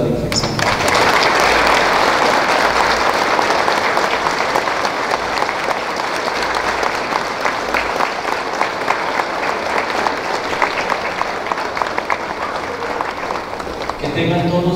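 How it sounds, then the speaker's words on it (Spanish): A crowd gives loud, sustained applause for the Virgin of Sorrows at an open-air patron saint festival in Tecozautla after Mass, dense clapping filling nearly fifteen seconds with a voice briefly at the very end. "Le damos un fuerte aplauso a la Virgen"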